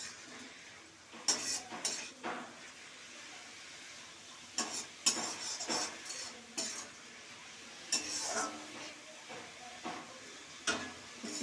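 Red amaranth greens with poppy seeds stir-fried over high heat, a quiet hiss of frying under repeated clinks and scrapes of a utensil against the pan, no speech.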